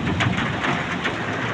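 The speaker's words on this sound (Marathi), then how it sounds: "विजांचा कडकडाट चालू आहे. आवाज येतोय का?" Steady rain hisses through a storm with a low rumble of thunder underneath, broadband and continuous over a short stretch, no voices present.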